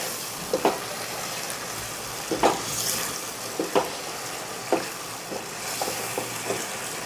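Kasuri methi is stirred into mutton korma in a pan: a continuous close sizzle broken by several distinct scraping strokes of the spoon, with no voices.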